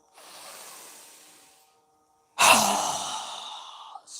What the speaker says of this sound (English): we're going to exhale with a strong breath through our mouth with our mouth open wide